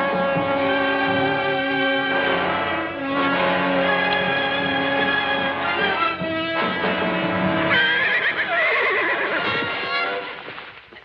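A horse whinnies loudly and repeatedly, with echoing, drawn-out neighs under a dense, reverberant mix and no talking.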